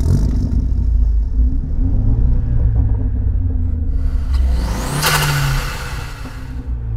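A 2010 Renault Megane RS 250 Cup engine revving: a deep, close rumble that climbs and falls, then a sharp rising rev with a whooshing burst near the end.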